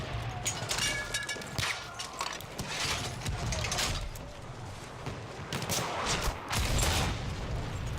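Rifle fire from the Vitelli infantry scout rifle in Battlefield 1, sharp cracks scattered through a busy battlefield with other distant gunfire and explosions rumbling around them.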